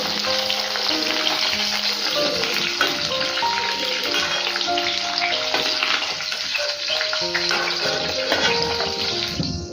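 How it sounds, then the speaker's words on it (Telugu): Sliced okra frying in hot oil until lightly coloured, a dense, continuous crackling sizzle held close and loud from start to finish, with faint tonal background music underneath. "బెండకాయలు ఫ్రై అయిపోయి ఉన్నాయండి"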